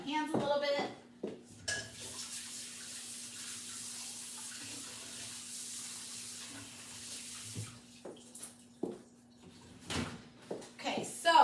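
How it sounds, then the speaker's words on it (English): Hands rinsed under running tap water in a home kitchen sink, a steady close hiss of flowing water for several seconds, with clattering dishes and a voice talking before and after. "Let me rinse off my hands a little bit."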